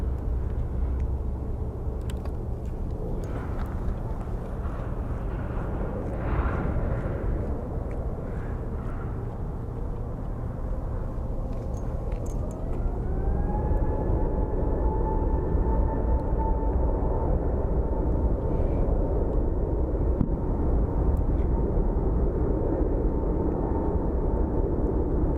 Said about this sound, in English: our Frontier flight that's going to be headed to San Diego's next